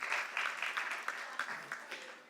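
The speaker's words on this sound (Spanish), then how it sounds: "Oh, eso merece un aplauso al Señor." During a Spanish-language worship service, a congregation claps briefly for the Lord, a soft, uneven burst of hand claps that gradually thins out over about two seconds.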